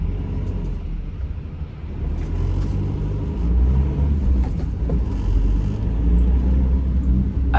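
A car pulls away from a city traffic light, heard from inside the cabin: a steady low engine rumble that swells as it accelerates, with no talk.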